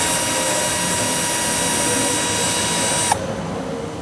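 A cordless DCA ADJZ2035i impact drill runs steadily with a high motor whine for about three seconds, then the trigger is released and the whine cuts out abruptly, leaving a quieter hum.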